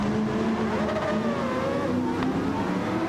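Sauber C9 and Mazda 787B Group C race cars at Fuji in Gran Turismo 7 drone loudly and steadily at high revs, one car sliding loose onto the grass, with a continuous engine roar throughout and no talk.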